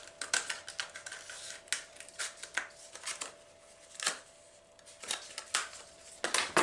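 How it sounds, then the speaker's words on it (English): Scissors snip repeatedly through a stiff plastic Dollar Tree flower pot, giving crisp, irregular cutting and crinkling sounds up close with no talking. "So we're just gonna cut our pot in two."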